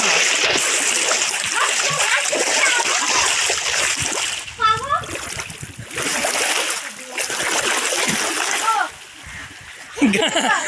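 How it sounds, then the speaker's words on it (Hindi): Water splashing in a crowded water park pool in Karachi, with continuous splatter and sloshing throughout, while people and children talk and shout nearby. "पानी मार रहे हो"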